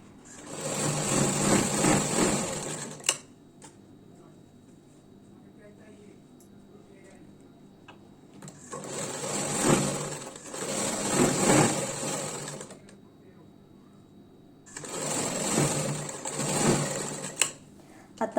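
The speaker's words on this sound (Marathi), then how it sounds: "दाबटीप दिल्याच्या नंतर त्याच्या उरलेल्या बाजूलाही आपल्याला शिलाई करून घ्यायची आहे।" A sewing machine stitches the remaining side of a blouse front in three separate runs, each steady and a few seconds long, with quieter gaps between them.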